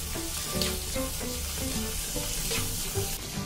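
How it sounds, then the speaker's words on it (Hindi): Pointed gourd with chopped tomato frying over a high flame, producing a dense, continuous sizzle with soft stirring sounds throughout and no speech. "ये इसमें ऐड करें और फ्लेम हाई करके इसे भूनें"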